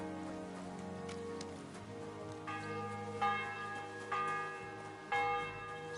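A church bell tolls in a medieval village in Kingdom Come Deliverance 2, several spaced metallic strikes with ringing overtones rising over a soft bed of ambient music and rain, no talking.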